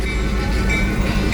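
EMD GP11 diesel locomotive number 304 hauling a train, a steady low rumble of engine and rolling rail noise, close and continuous with no talk.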